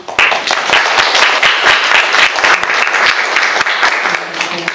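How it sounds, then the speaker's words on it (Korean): Loud, close applause from an audience at a results presentation for an urban records project, with individual sharp claps standing out in the steady wash throughout. "응원의 의미로 큰 박수 부탁드리겠습니다."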